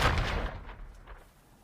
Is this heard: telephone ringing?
no